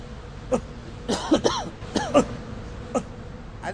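Several forceful, cough-like exhalations during pranayama breathing practice, sharp bursts spaced irregularly and close to the mic, with a little voiced sound mixed in.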